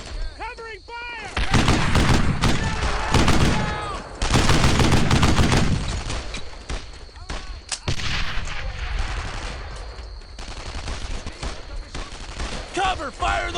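Gunfire in the World War II shooter Brothers in Arms: Earned in Blood: loud, dense volleys of rifle and machine-gun shots that rise and fade in waves, with shouted voices heard amid the shooting.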